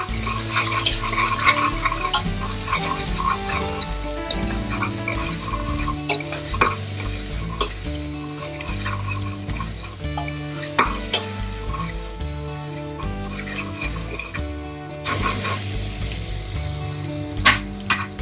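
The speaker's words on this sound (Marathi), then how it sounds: "आलं लसणाचा कच्चापणा जाईपर्यंत छान परतायचं." Ginger-garlic paste and onion sautéing in a pan for moong dal khichdi, a steady sizzle and fry with stirring scrapes running continuously under light background music, with no talking.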